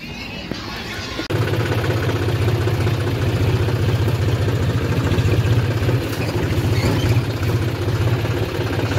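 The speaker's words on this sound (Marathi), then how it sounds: "स्टार्ट चाललंय यार ट्रॅक्टर." A tractor fitted with a rotavator starts up after a brief quiet moment and settles into a loud, steady, low diesel idle close by in a farm field, with voices faintly underneath.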